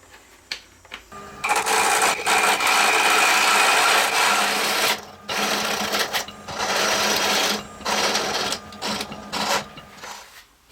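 Steady loud whirring and scraping of walnut being turned into small knobs on a wood lathe, with brief pauses and restarts throughout.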